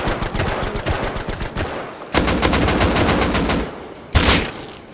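Dense bursts of gunfire in the survival game Rust, a rapid rattle of shots for about two seconds, a brief gap, then another sustained volley and a sharp loud burst near the end, with no talking over it.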